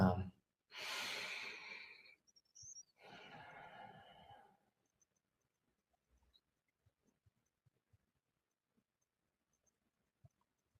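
A person breathes deeply, with two long, loud exhalations close to the microphone followed by a shorter breath, then near silence with faint small clicks.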